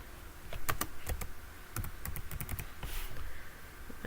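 Someone types a login username and password on a computer keyboard, giving quick irregular bursts of close, crisp key clicks with short pauses between them. No one speaks.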